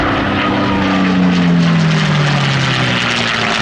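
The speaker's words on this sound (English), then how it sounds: "as the P-40 comes rolling by" A P-40 propeller warplane drones loudly past at an airshow, its engine pitch sliding downward as it goes by, a steady roar with no talking.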